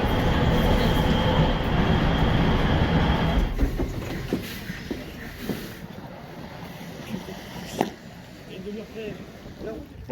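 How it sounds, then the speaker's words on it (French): A Rennes line B metro train rumbles loudly, then eases with rolling wheel noise and faint squeals as it slows, with people talking over it. "on va tester ce que ça donne en métro"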